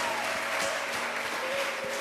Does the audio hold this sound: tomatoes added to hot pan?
no